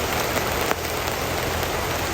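Steady rain pours down in a dense, even hiss at midday, with one brief louder patter near the start and no voices.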